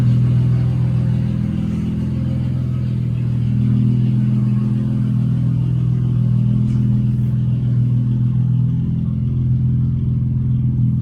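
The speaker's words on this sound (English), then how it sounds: "Let's take it for a little test drive." A Nissan Z engine rumbles steadily at low pitch throughout a test drive, with a continuous deep drone and slight swells as the car drives along.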